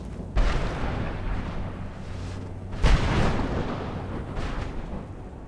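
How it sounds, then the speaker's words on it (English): Enemy fire in modded Skyrim Special Edition during the Dawnguard quests, two heavy booming shots about two and a half seconds apart, each trailing into a rumbling, noisy background. "Something somewhere is shooting at me when I come here."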